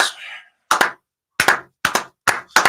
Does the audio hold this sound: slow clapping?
yes